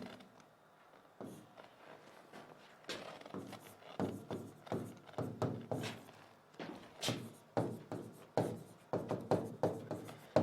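Chalk taps and scrapes on a classroom board during an English grammar lesson, a steady run of short, close strokes and knocks with brief pauses between, fairly quiet with no talk over them.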